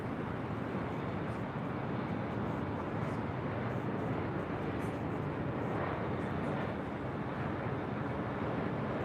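Jet engines of an airliner taking off from runway 24 left at LAX roar steadily in the distance, a broad constant rumble with wind buffeting the microphone throughout.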